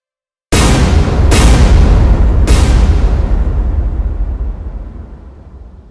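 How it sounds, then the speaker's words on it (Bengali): Bombs dropped by Jaguar jets strike their target in three rapid, heavy blasts about a second apart, each loud booming impact rolling into a long rumbling decay that fades over several seconds. "ওই দেখুন ভূপৃষ্ঠে সঠিক লক্ষ্যবস্তুতে আঘাত হানছে এই বোমগুলি।"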